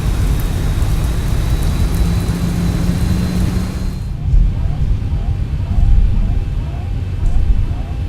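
Steady rain hisses over a dense rumble in the X-Plane 11 flight simulator as a Boeing 737 slows on a rain-soaked runway at Guam, the noise loud and constant, lightening partway through with faint engine tone underneath.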